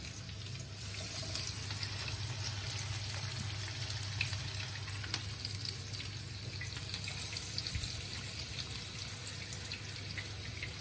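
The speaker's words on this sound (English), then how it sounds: "Now we're just going to fry our fritters" Tomato fritters fry in hot oil in a frying pan, giving a steady, faint, even hiss and crackle with occasional tiny pops throughout.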